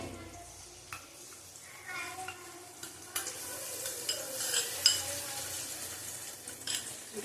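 Spice paste with Kashmiri chilli powder and turmeric fries for a vegetarian chana paneer, giving a soft sizzle with scraping stirs and occasional clinks of a utensil against the pan, close and fairly quiet.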